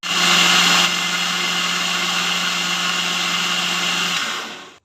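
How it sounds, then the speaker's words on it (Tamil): A blender whirs loudly, churning milk cream with ice cubes to make homemade ghee; a steady motor drone runs for about four seconds after a brief louder start, then winds down. "ஃபர்ஸ்ட் இதை பாலாடையெல்லாம் சேர்த்து ஐஸ் க்யூப் போட்டு இப்போ அடித்து எடுத்துக்கலாம்."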